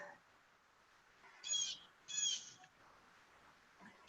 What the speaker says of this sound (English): Who has a bird tweeting in the background?